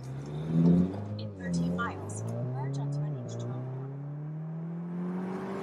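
Volkswagen Golf R engine pulling hard under acceleration, a steady rising harmonic drone that climbs in pitch, with talk over the start of the run.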